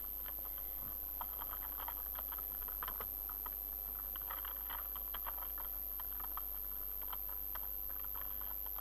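Keys clatter on a computer keyboard as a Minecraft teleport command is entered into a command block, with a steady patter of light clicks running throughout at close range and no talk.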